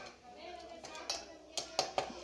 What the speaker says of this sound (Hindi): अब अंडे को मिक्स करें।